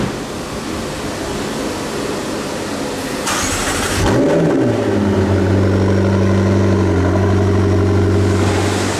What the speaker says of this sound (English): The car's just going to be moved back a touch so that the wheels can be attacked from another angle.